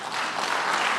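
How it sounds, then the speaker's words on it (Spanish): Applause from a church congregation fills the space with a dense, steady wash of clapping, moderately loud and uninterrupted, with no voices over it. "Denle un aplauso a Jesús"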